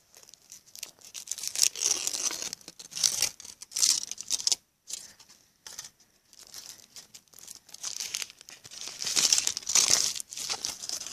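A plastic or foil surprise egg wrapper crinkles and tears in close, bursty handling, with short pauses between rustles and no talking.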